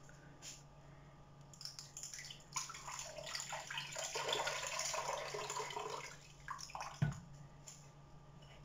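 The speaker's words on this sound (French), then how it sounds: "Je rajoute de l'eau." Water pours from a tap or jug into a cooking pot for couscous, a splashing, gurgling rush that builds over a few seconds and then tapers off into a few drips and a soft knock, close by with no talk.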